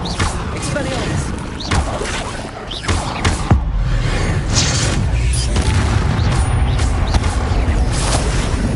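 A spell cast in the video game Hogwarts Legacy lands as a heavy boom with whooshing impacts, layered over a dense, continuous bed of game music and effects.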